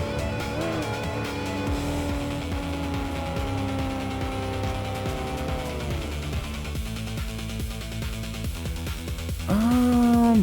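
A race car in a video game revs with a steady, loud engine drone that shifts pitch as it accelerates and brakes, ending with a sharp rising whine or tire squeal near the end, with no talking.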